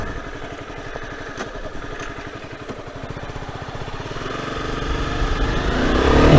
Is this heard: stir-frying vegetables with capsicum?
no